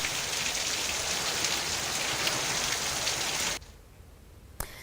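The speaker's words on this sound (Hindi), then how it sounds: "खगड़िया में आज सुबह से ही तेज हवा के साथ बारिश हो रही है।" Heavy rain from Cyclone Yaas falls in Khagaria, Bihar, with strong wind, a dense, loud, continuous wash of rain that cuts off abruptly near the end, then a brief knock.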